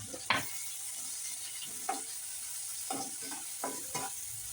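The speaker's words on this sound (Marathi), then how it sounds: "लगेच घालणार आहोत कांदा, ढोबळी मिरची, सगळं एकदमच घालायचं आणि छान परतवून घ्यायचं." Onion and capsicum stir-fried together in a spoonful of oil for Chinese-style Maggi, a quiet, even sizzle broken by about half a dozen spatula scrapes against the pan.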